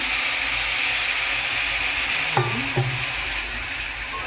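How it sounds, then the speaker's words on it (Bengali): Sweet momo filling with sugar is stirred in a hot pan after hot water goes in, producing a loud, unbroken hissing sizzle with two brief knocks of the spoon against the pan partway through. "অল্প করে গরম জল দিয়ে দিলাম এটা এবার নেড়ে নেড়ে পুরো শুকিয়ে নেবো"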